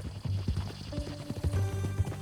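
Horse hooves clip-clop at a steady walking pace in the video game Red Dead Redemption 2, close and fairly loud over low game music, with no talking.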